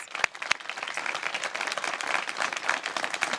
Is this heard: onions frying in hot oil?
no